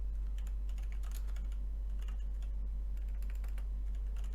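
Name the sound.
typing commands on a computer keyboard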